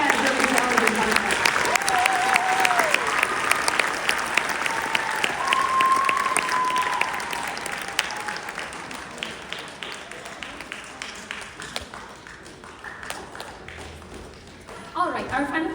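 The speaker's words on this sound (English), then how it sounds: "the percussion section kind of deserves another round of applause" Audience applause fills a school band's winter concert hall, steady dense clapping that gradually thins and fades toward the end, with a brief renewed burst at the close and faint voices mixed in.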